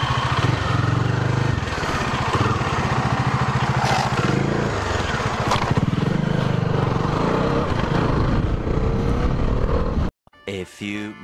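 A Honda motorcycle ridden on an Indian road gives a loud, steady engine drone with rapid firing pulses and wind rush that runs for ten seconds, then cuts off abruptly into a short quieter patch.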